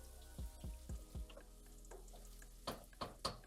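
Chicken and mushrooms browning in a pan for chicken fricassee, stirred with a few low thumps and spoon scrapes over a faint sizzle, ending in sharper clanks, quiet and close.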